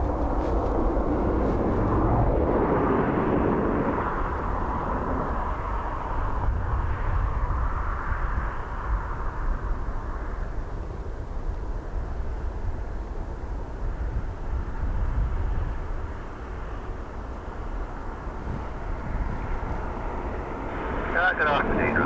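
A Ryanair airliner moves at Dublin Airport in crosswinds, a broad jet rumble swelling early and slowly fading, with wind buffeting the microphone throughout.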